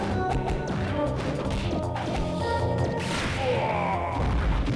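Loud crashing impacts and booming blasts in quick succession as an energy-blast attack hits a robot hound in an arcade game, layered over bright electronic game effects with no speech.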